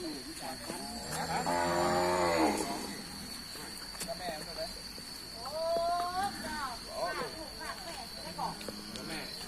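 Cattle at a Thai livestock market, including a young female calf, lowing in a few drawn-out moos amid busy market noise, with people talking nearby throughout.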